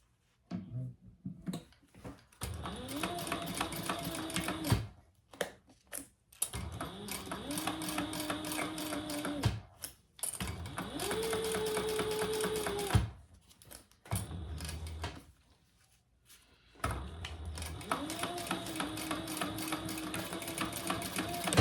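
A sewing machine stitches an eyeglass case in several runs of steady mechanical whirring, each lasting a few seconds and separated by brief pauses, close and clear.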